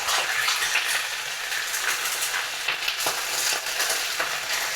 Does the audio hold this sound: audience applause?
no